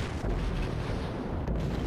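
Naval shelling in World of Warships from the destroyer Wakatake comes as a deep, continuous rumble of heavy gunfire and explosions, loud and close, with no talking.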